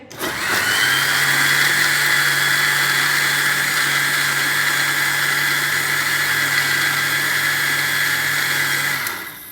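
Kitchen mixer grinder blending chutney with sugar, a loud steady high-pitched motor whine that starts abruptly, runs continuously for about nine seconds, then cuts off.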